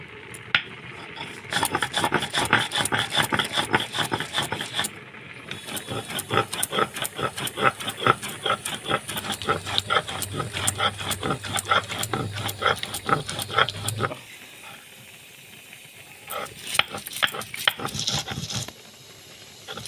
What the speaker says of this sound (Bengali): তো এই যে পোস্তটা আমি বেটে নিচ্ছি। আগে শুকনো বাটছি পোস্তটা